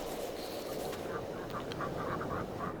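Ducks quack in a short run of nasal calls over low steady farm ambience in Farming Simulator 22, fairly faint and spaced irregularly.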